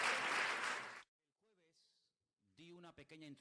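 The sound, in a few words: congregation applauding for a brother in Thailand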